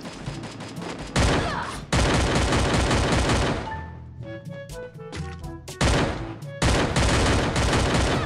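Rapid bursts of automatic gunfire in the Free Fire Battlegrounds video game, loud repeated volleys with a short pause filled by game tones, then more shooting.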